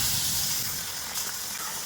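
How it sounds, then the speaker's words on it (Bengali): Large freshly caught rohu-type fish sizzling in hot oil in a small wok, a steady, loud, close hiss that continues without pause and has no talking over it. "তেলটাও আমার গরম হয়ে গেছে, এবার মাছটা ভেজে নেব"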